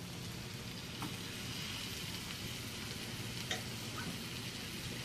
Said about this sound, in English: I'm going to go ahead and add that squash into my hot pan with olive oil